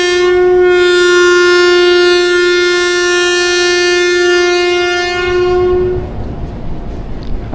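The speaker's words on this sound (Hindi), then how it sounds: "फ़र्स्ट डिपार्चर विसल हो गया" A departure whistle sounds from a train at Hasan Abdal railway station on the Awam Express, one long loud steady horn blast that holds for about six seconds, then cuts off and leaves the rumble of the train.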